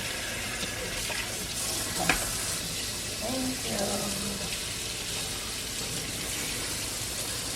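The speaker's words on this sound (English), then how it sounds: "Let me turn the water on" Tap water runs steadily into a kitchen sink during chicken prep, a continuous broadband hiss with a brief clatter partway through and a short spoken word near the start.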